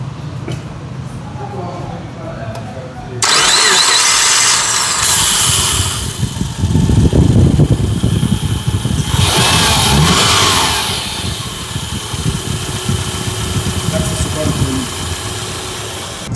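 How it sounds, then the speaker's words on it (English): Subaru Forester Cross Sport engine starting with a sudden burst, then settling into a steady close idle with slight rises in revs, over a broadband engine rumble. "Let me just start the engine or ojiwulire how it starts because it's also important that you hear how it"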